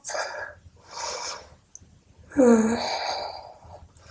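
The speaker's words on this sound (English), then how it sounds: "One more big breath." Deep breaths during a restorative yoga session for the hips and low back: a soft breathy exhale, then a second whooshing breath, then a longer, louder exhale with a slight voiced, sigh-like tone, close and fairly quiet.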